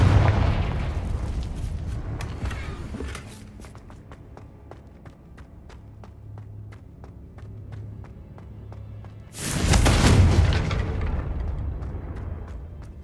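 Confringo blasting spell from Hogwarts Legacy, a loud booming explosion at the start that fades into rumble, quieter crackling in between, then a second heavy blast later, with no talk over it.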